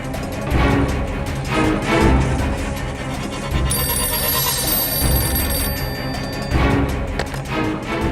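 Telephone ringing on the line after a number is dialed, a repeating ring tone that sounds over a busy, noisy background.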